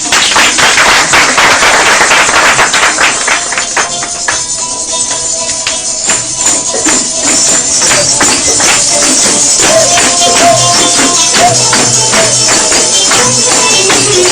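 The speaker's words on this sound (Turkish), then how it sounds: "Alkışlar arasında" Applause from an audience at a Turkish televised gathering: crisp individual claps ring out, with music playing underneath, the clapping growing and fading unevenly for a steady stretch.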